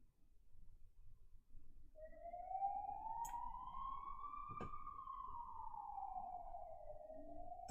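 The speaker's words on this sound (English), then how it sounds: "There can't be an ambulance every minute in any city." A wailing siren rises and falls slowly in the distance over a low city rumble, one long sweeping tone with a faint higher harmonic, steady for several seconds.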